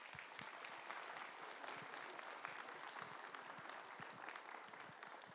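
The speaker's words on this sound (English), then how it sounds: "give them a round of applause" Audience at a high school graduation ceremony gives a round of applause, a continuous dense patter of many hands clapping, fairly distant and even throughout.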